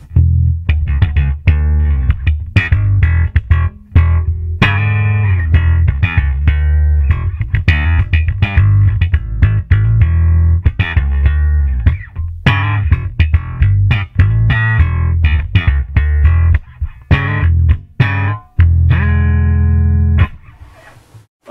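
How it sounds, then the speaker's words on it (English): A punchy, bright bass guitar played slap style through an Ashdown MiBass 220 amp head with boosted bass and scooped mids, percussive slapped and popped notes, loud and continuous with short gaps, no talking. "by boosting up the bass and taking more of a scoop on the amp, we get a sound that's typically suited to things like slap"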